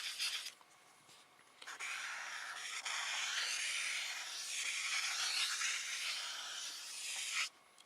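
A pen scratches across an art journal page as swirls are doodled, a close, soft, continuous rubbing and scraping with short pauses between strokes.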